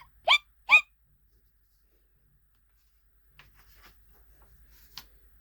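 Two quick, sharp hiccups imitated by a reader voicing a skeleton in a children's picture book sound close and clear, followed by a long quiet stretch with faint ticking and rustling.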